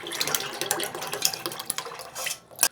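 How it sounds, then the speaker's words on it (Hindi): Tamarind and plum syrup poured into a pot of sugar water for a sharbat, giving a steady close splashing and trickling of liquid with small clinks of a vessel, no talking. "और अब हम इसमें डालेंगे इमली और आलू बुखारे का शरबत।"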